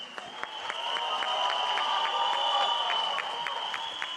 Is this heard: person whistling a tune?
no